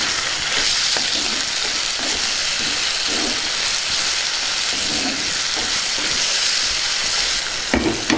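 Curry leaves fry in a simmering tomato curry, giving a loud, steady sizzle with soft crackle and a few faint stirring knocks, close and alone without talk.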